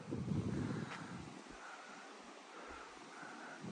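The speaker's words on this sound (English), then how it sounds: "It's a little bit windy, so I apologise." Low rumbling wind buffets the microphone, strongest at first and then settling into a steady gust-filled noise, with no talking.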